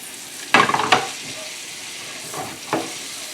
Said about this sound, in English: Do not burn the garlic, keep it from getting too brown